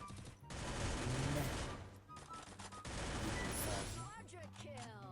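Rapid bursts of gunfire in the video game Free Fire crackle in dense volleys while voices talk over the shooting.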